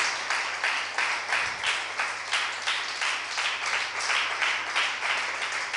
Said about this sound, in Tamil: நம்மளுடைய தேசத்துக்காக நல்ல ஒரு கைத்தட்டு கொடுங்க பார்ப்போம்